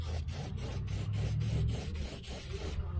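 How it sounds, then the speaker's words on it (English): A close, steady hiss of an aerosol rust neutralizer sprayed on the left-side body of a 1968 Chevelle Nomad under restoration, broken by rhythmic pulses roughly every quarter second, with a low hum underneath. "This is a rust neutralizer that I use."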